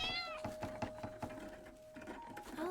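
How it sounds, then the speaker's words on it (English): A cat meows nearby, loud and clear, with a few short cries mixed with faint tapping sounds. "Probably still that cat."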